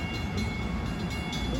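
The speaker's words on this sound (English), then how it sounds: "that was train 655 en route from Port Jeff to Jamaica" Passenger train 655 from Port Jeff to Jamaica at a New Hyde Park road crossing, a short, steady, moderately loud rumble of passing carriages with no voices.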